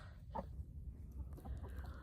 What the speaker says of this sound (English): These chickens are here just to hang out and be chickens.